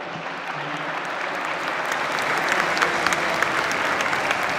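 An audience applauds steadily at the opening session of a forum in Lisbon, a dense wash of many hands clapping that swells slightly and continues throughout.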